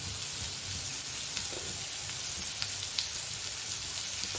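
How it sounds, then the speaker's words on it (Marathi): Sweet potato slices shallow frying in ghee give off a steady, even sizzle that carries on throughout, with no voices over it. "हे असे एक एक तूप टाकायचं आणि त्याच्यावर हे शॅलो फ्राय करून घ्यायचे."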